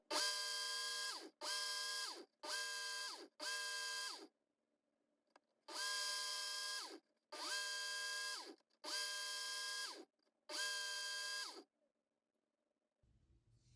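Work Sharp Ken Onion Edition electric knife sharpener grinding a new bevel on a knife blade, eight steady whirring passes of about a second each separated by short pauses, close and loud with no talking.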